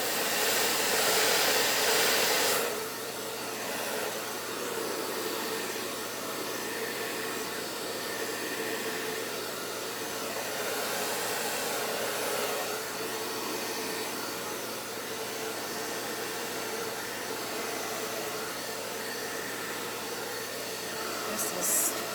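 A hair dryer blows steadily on an acrylic paint pour of red, green and gold, a loud whooshing hiss that starts strong, eases slightly after a few seconds and continues unbroken.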